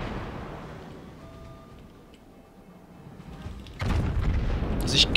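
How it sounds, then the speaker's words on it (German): A broadside from the warship Conqueror in World of Warships opens with a quiet lull before a sudden loud, booming burst of heavy gunfire that rumbles on and swells again near the end. "Das ist echt eine wunderbare Breitseite von der Conqueror"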